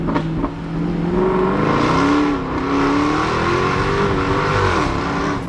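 A supercharged 550-horsepower Jaguar engine accelerates loudly with a rising, whining tone that dips briefly and climbs again, heard close from inside the vehicle.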